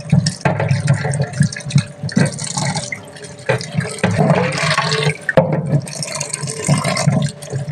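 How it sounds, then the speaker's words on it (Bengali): Peeled potatoes are washed in water, with splashing, sloshing and dripping close by in uneven bursts and brief pauses. "আবার একটু ধুয়ে নেব, কেন আলুতে এখন মাটি থাকে অনেক"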